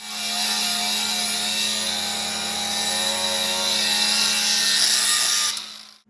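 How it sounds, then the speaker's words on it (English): Welding repairs on a soil finisher produce a steady, loud, buzzing crackle with a constant hum that runs without a break for about five and a half seconds, then stops. "Welder back on."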